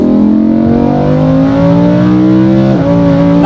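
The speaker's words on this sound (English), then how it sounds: "I'm just driving it in Strada mode at the moment, which is valves closed." Lamborghini Huracan V10 with a Supersprint exhaust, valves closed, drones loudly and steadily from inside the car, its pitch gradually changing under load with a brief shift near the end.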